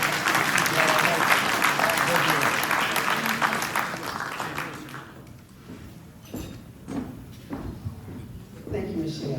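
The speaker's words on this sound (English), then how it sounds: "please give everyone a round of applause and congratulations to" Audience at an ROTC Hall of Fame ceremony gives a round of applause, loud dense clapping that fades out after about five seconds, followed by quieter room noise, shuffling and faint voices.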